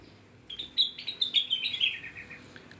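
A Bali myna (jalak Bali) in an aviary gives a quick run of bright, chirpy whistled notes lasting about two seconds, clear and fairly close over a quiet background.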